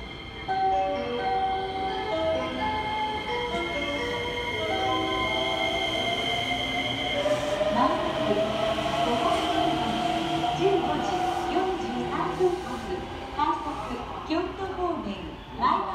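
A train at the JR Shin-Osaka station platform, with a steady rumble, rising wheel squeal and hum as it moves along the track, loud and close, under a pre-recorded boarding announcement in a station voice.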